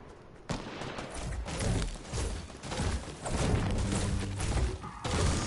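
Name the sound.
gunfire in a video game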